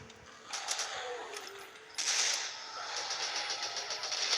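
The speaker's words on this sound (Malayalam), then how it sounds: "അത് വെടി വെച്ചുകൊണ്ടിരിക്കും." Enemy gunfire in a shooting video game comes as rapid mechanical bursts, moderately loud. It starts at about half a second, swells sharply at the two-second mark and keeps up as a dense rattling stream to the end.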